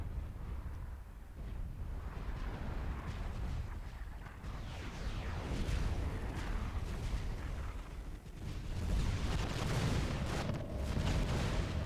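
Fat Boy units fire artillery in Supreme Commander 2, a dense, continuous stream of booming shots and rumbling impacts layered over one another during a 3v3 battle on Thunder Pass, steady and fairly loud throughout.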